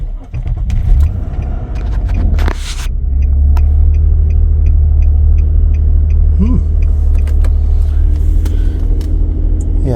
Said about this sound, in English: Let's see if it will start the vehicle.